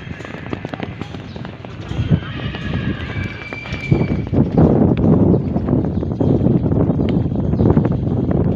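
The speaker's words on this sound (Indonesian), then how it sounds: "penyelenggaraan pacuan kuda ini." Horses gallop past at a horse race, their hoofbeats building from a busy rumble into a loud, close drumming, with crowd noise and voices mixed in.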